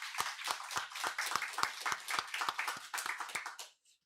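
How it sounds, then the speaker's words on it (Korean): Rhythmic unison clapping from a church congregation at a Wednesday worship service, around a dozen sharp, evenly spaced claps at a quick steady beat, ending abruptly into near silence. "하나님께 영광의 박수 드립니다."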